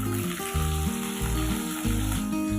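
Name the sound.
potatoes and pointed gourd frying in a pan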